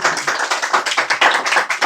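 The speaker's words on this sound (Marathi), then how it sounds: "परत एकदा नीट टाळ्या वाजव." A room of students claps hands quickly and unevenly, with dense, sharp claps piling into a ragged burst that lasts under two seconds, close and fairly loud.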